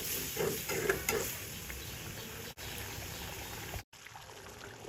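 Low, steady sizzle of chicken skin curry frying in a pan as a little water goes in, with soft stirring and brief clinks, then the sound briefly cuts out and returns quieter.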